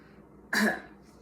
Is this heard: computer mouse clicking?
no